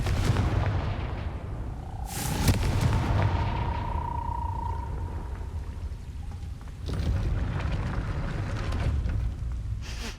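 A Confringo blasting spell in Hogwarts Legacy goes off with a sharp booming burst, followed by a fizzing, whistling tone and a second rumbling blast, all set against steady rain-like ambient noise.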